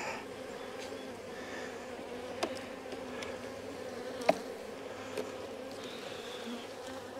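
Honeybees drone around a ten-frame hive converted from a nuc, a steady soft buzzing hum with a few faint clicks and taps, fairly quiet throughout.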